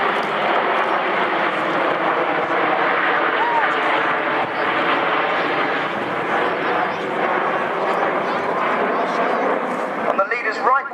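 Red Arrows jets climbing at around 400 mph make a loud continuous roar and rumble, with a voice talking over it and a dog barking briefly near the end.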